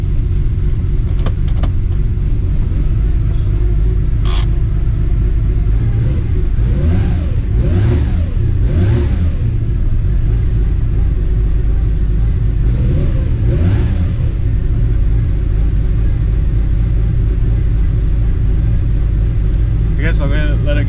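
Car engine idling with several revving bursts, the pitch rising and falling in repeated swells over a steady low rumble, close by, while the engine is run up to temperature after transmission repair.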